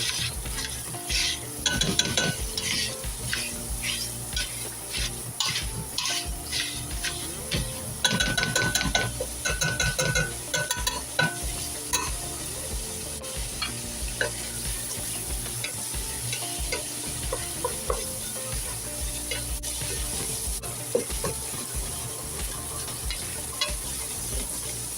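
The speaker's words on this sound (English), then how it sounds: "If necessary, using a fork or potato masher, break the sausage into small pieces and stir frequently." Italian sausage frying in a pot as it is stirred and broken into small pieces with a fork or potato masher, loud repeated scraping and clacking over a constant sizzle, no talk.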